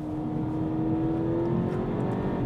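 Engine of a 2018 VW Polo GTI on a race track, a steady, loud, throaty drone that holds constant and close throughout with no talk.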